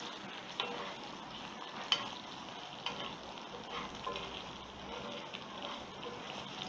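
Precooked breakfast sausages sizzle softly in a pan, giving a faint, continuous crackle with occasional small pops and clicks.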